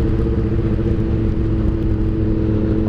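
A Honda Hornet motorcycle engine droning steadily and loudly while riding along a road past sugarcane fields, a continuous close hum with no break and no talk.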